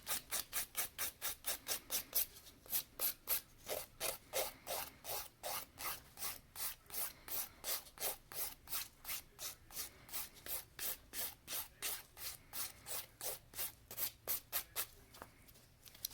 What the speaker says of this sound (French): Je vais refaire mes côtés et je lime partout.